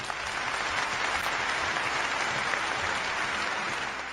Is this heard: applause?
yes